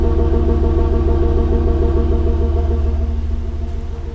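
A 2006 Chevrolet Monte Carlo SS with a 5.3 V8 and a cold air intake idling up close, a loud steady droning rumble with a fast regular pulse that fades slightly toward the end.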